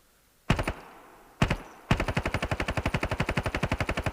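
An M60 machine gun with a scope, fired in the mobile shooter Standoff 2: two loud single shots, then a long rapid burst of evenly spaced rounds, close and alone with no talk.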